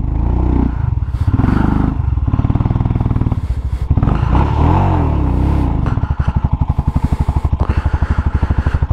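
Motorcycle labouring up a steep off-road slope on a trip to Leh, engine close and loud, revs surging and dropping with clattering and scraping, then settling into a steady strained chug.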